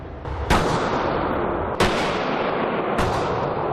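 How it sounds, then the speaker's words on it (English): Three loud, sharp gunshots roughly a second apart, fired into bullet-resistant shirts with plates hung on wooden dummies at a range, each crack followed by a long ringing decay over a steady background hiss. "We emptied more than 20 rounds into each shirt."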